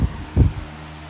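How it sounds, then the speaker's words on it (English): A fan's spinning blade gives off two low, heavy whooshing thumps in a short span over a steady hum, close and alone. "Just the fan noise of the blade."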